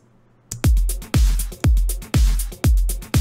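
A punchy drum pattern hits in a steady groove of heavy kicks and crisp cymbal accents, played alone after a brief silence.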